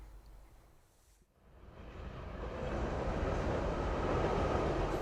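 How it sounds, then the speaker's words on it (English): The Indian Pacific passenger train crosses Australia, a broad rumbling roar that dips briefly, then builds steadily into a loud, continuous rolling rush of wheels and carriages. "Let's take a trip across a continent on the Indian Pacific."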